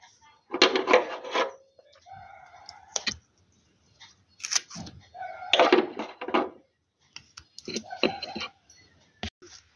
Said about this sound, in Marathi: तर आधी आपण ह्या बॅटरीला डबलचा चिकट्टी लावून घेऊया.